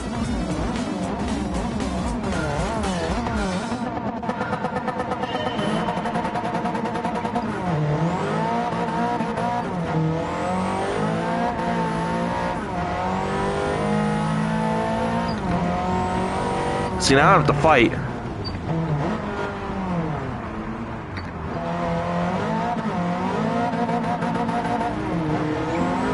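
Audi Quattro Group B rally car in Gran Turismo 7 racing in VR, its engine revving and shifting continuously with rising and falling pitch, tires squealing briefly, a short impact sound midway, while someone talks over it.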